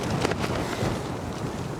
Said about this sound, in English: I've got a 23 mile an hour crosswind right now.